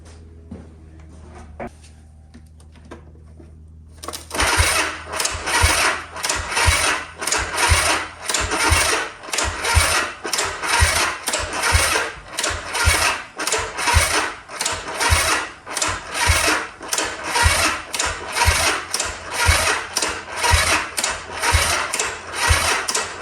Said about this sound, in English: This is not the best way to try and start a motorbike.